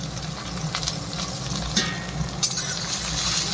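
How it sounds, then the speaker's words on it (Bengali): Tomato and onion fry together in a hot pan for a Bengali mustard-greens (sarson saag) dish, giving a steady, close sizzle with a few soft crackles and no voices. "টমেটো পেঁয়াজ ভালো করে ভাজা ভাজা করে নিই।"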